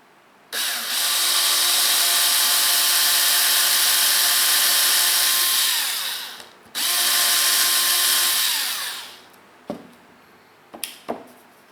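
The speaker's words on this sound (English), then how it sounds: "mark it out, and drill another hole." A loud power drill whirs steadily for several seconds, stops briefly, runs again, then winds down, followed by a few clattering knocks, while drilling holes in a Disney Nautilus model.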